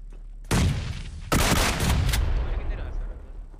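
Gunfire in a battle royale video game: two loud, close bursts of rapid shots, the second longer and fading into a rumbling tail, with voices faintly underneath.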